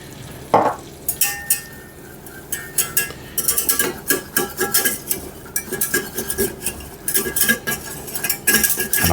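Butter, beef dripping and flour sizzle in a pan as a roux is stirred, with a spoon scraping and clinking rhythmically against the metal, close and fairly loud throughout.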